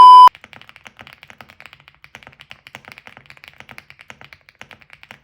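Fingers type on a mechanical keyboard in a rapid, even patter of soft clicks at moderate distance, preceded by a brief electronic beep.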